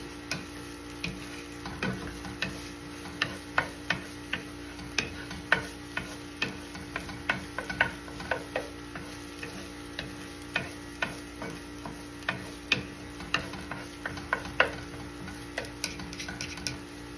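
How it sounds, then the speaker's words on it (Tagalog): Food browning in a hot pan, with a steady sizzle and frequent sharp ticks and scrapes from stirring at a regular pace, close and alone. "Iba-brown natin to kasi nga para lalong mas masarap."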